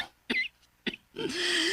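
Two short, harsh coughs a moment apart, close by, followed by a brief high-pitched, strained vocal sound.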